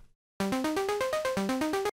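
A Serum synth plays a noisy arpeggio with its effects turned off: a fast, evenly stepped run of bright, buzzy notes climbing in a repeating pattern, loud and dry, starting after a brief silence.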